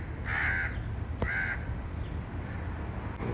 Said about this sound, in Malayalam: ഒരുപാട് കാക്കകളുണ്ട്